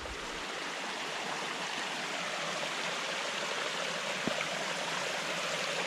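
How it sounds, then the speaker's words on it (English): A creek flows across a dirt road in a forest near Tuck Lake in Wenatchee National Forest, Washington. It gives a steady, broad rushing babble, close and continuous. "creek runs right through the middle of the road"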